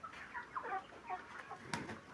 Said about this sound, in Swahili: Kuku hapo wa kutosha.